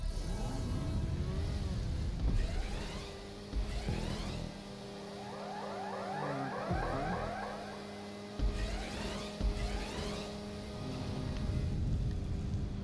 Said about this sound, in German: Dann testen wir weiter mal das Motorrad.